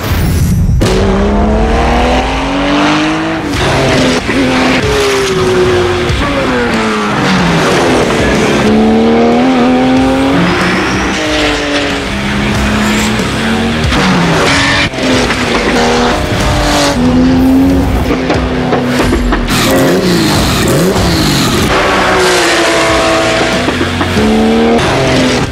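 Porsche race car driven hard on a racetrack, its engine loud and close, rising and falling through repeated gear changes with tire squeal, and no voices.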